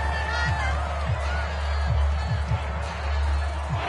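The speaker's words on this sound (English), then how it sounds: "This red zone is where the Seahawk crowd really makes it tough for an offense to communicate" Roaring home crowd at a Seattle Seahawks stadium during a game against the Steelers, a dense continuous wash of cheering noise with a commentator talking over it.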